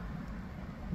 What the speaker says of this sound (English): I'm also sitting here with the windows down. And I'm getting rained on